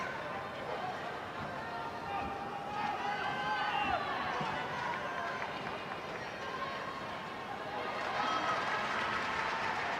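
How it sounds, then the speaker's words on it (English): Crowd at a women's football match between Leicester City and London City Lionesses: a steady, distant roar of spectators rising in waves under a commentator's continuous talk. "You can hear the crowd there, willing Leicester City to go on and chase that ball down."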